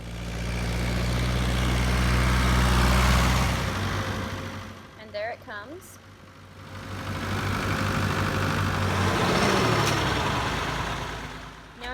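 A tractor pulls a feeder mixer wagon on a dairy farm, its engine rumbling loudly and steadily before easing off, then building again as it approaches; someone speaks briefly over the noise.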